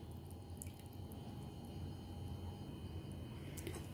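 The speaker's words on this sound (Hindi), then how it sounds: "अब हम इसमें डालेंगे बटर मिल्क" Buttermilk poured into a cupcake batter of vanilla essence and oil in a bowl: a faint, quiet trickle with soft drips, ending in a brief louder knock.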